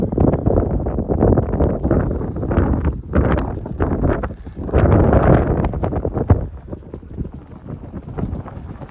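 Strong gusting wind on the crest of a sand dune in Idaho buffets the microphone in loud, rough bursts that rise and fall, easing off toward the end.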